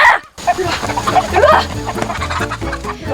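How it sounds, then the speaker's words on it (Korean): A flock of lively farm chickens clucks and squawks loudly and continuously nearby while being chased, with agitated bursts of calls layered over each other. "활력 넘치는 닭들이 많죠?"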